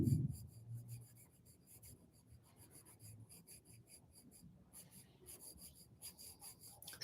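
A pencil shades a curved cone drawing on paper with soft, continuous sweeping strokes, a faint dry rasp of graphite blending and rubbing close up, steady and quiet with no voices.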